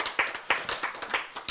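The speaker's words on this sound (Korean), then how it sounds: "이거 박수 한번 쳤지" A quick run of crisp hand claps, several in under two seconds, sounds close by with no talking.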